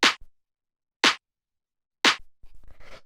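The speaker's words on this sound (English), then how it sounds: "Then we have the clap, which sounds like this." A regular house clap drum sample struck three times at an even one-second pace, each hit a sharp bright snap with a short tail, the last followed by faint scratchy noise.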